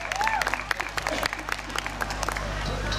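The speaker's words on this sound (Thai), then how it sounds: "ขอเสียงปรบมือให้ทั้งคณะเลยนะครับ" Audience applause for a Muay Thai demonstration team at an outdoor Thai festival event in Purmerend, a steady wash of clapping with scattered cheers from a crowd, broad and continuous for about three seconds.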